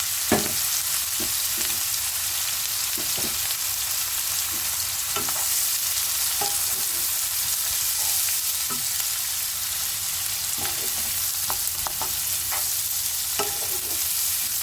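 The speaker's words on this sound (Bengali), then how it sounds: "পেঁয়াজটা ততক্ষণ ভাজবো যতক্ষণ না একটু নরম হয়ে আসে" Onions fry in oil with whole garam masala for a pressure-cooker country chicken dish, a continuous close sizzle broken by light scrapes and taps of stirring, with no voices.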